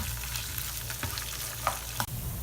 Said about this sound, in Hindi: ड्राई फ्रूट्स को मैंने लो फ्लेम पर 4 मिनट के लिए फ्राई कर लिया है।